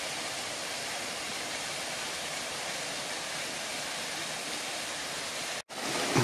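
Steady rushing water from a stream just upstream of a waterfall in Kato, Japan, fills the scene, a constant broadband hiss with a brief dropout near the end, no voices.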